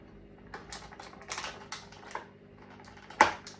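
Scissors snipping a Mortal Kombat action figure free of its plastic packaging, a series of faint, close cutting clicks spaced irregularly, ending with one sharper snip.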